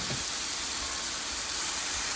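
Mushrooms and boiled pasta frying in a pan, giving a steady, close broadband sizzle and hiss that carries evenly throughout with no talking.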